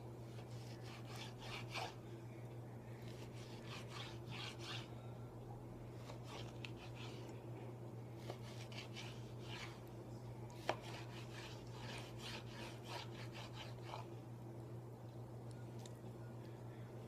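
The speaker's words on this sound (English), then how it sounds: "So all you're going to do is just cut it into little strips." A knife cuts a moose heart into little strips, giving faint, soft slicing and scraping strokes in an irregular rhythm over a low steady hum.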